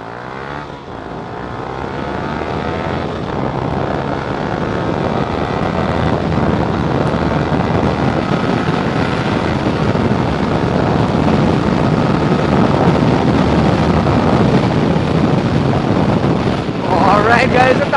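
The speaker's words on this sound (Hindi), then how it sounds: "काफ़ी ज़्यादा लाउड है, काफ़ी ज़्यादा शोर मचाती है बाइक" A loud, steady modified motorcycle exhaust on a Yamaha R15 V3 drones continuously for the whole stretch, close and unbroken, with wind buffeting the microphone.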